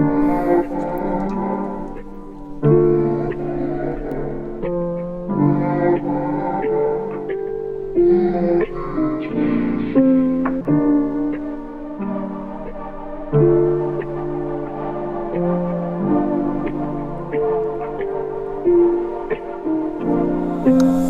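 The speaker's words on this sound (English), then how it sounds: "So we bring all that together and it sounds like this." A mellow ambient beat with a looping, pitched-down percussion pattern and layered tonal chords, steady and full throughout with brief breaks in the groove.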